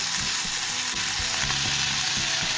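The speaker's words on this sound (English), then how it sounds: "Then we're gonna add the onions and the garlic back to the mix." Onions and garlic frying in a pan with bacon for coq au vin blanc, a steady close sizzle with a few soft scraping knocks underneath, no voices.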